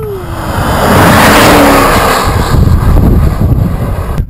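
A Range Rover accelerates hard in third gear on a track, the engine roaring loud and close as it climbs, then a rough, rumbling drone follows with wind noise, with no talking.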